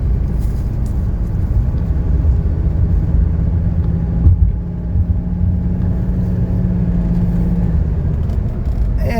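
A 1983 Mercedes 300D diesel car on a test drive, heard from inside as a steady low engine drone and road rumble with a sustained hum, fairly loud and continuous.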